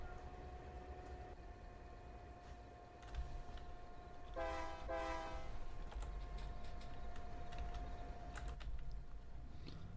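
Train passing in Farming Simulator 22, a steady rumble with a long held tone, then a brief horn-like burst of stacked tones in the middle, continuing alongside clicking sounds.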